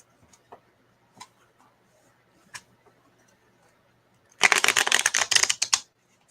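Oracle cards being shuffled by hand for a card reading: a few faint isolated taps, then a dense, crisp riffling burst of close card flutter lasting about a second and a half before stopping.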